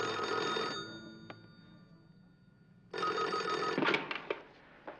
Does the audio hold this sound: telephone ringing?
yes